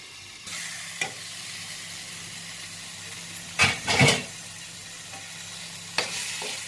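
Tomatoes deep-frying in oil for a cauliflower vegetable biryani, giving a steady, soft sizzle and hiss with a low hum beneath and a few sharp clinks and scrapes of stirring, without talk.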